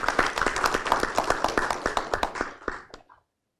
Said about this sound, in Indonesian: Tepuk tangan untuk Dr.